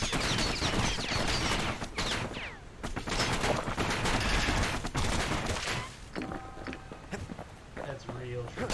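Pincushion enemies in the Bastion video game fire off rapid volleys of shots mixed with running footsteps and clattering effects, dense and loud, with talk over the top.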